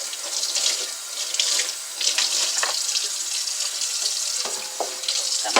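Kitchen tap water runs steadily into a sink during rinsing, a bright continuous splashing hiss with small clatters of the basin, close and fairly loud with no voices.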